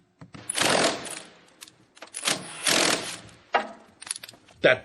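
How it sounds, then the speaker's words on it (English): Bursts of pneumatic impact wrench rattling as it sprays WD-40, three long runs and a few short blips, loud and close with brief pauses between. "It looks like it has WD-40 spraying out of an impact wrench"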